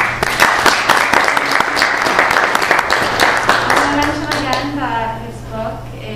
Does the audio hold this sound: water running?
no